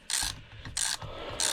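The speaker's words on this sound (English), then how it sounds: "right now I'm just taking the jug bolts off" A hand ratchet loosens the cylinder bolts on a Husqvarna 372xp chainsaw with a Hyway kit, giving three short bursts of quick clicking close by and alone.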